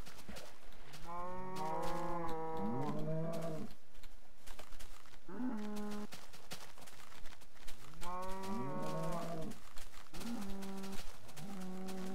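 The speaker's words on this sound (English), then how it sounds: "somehow I have 5 cows." Several cows moo in a Minecraft game, giving long drawn-out lowing calls in two clusters with short gaps between, clear and fairly close over a faint steady background, with no talking.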